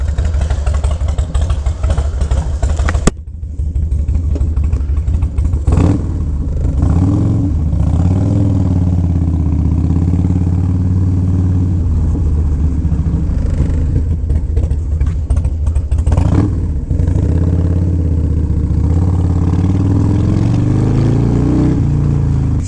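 A Harley-Davidson FXR motorcycle engine runs steadily and loudly throughout, with a sharp click near the start and swells of revving around the middle, close to the microphone and with no talking.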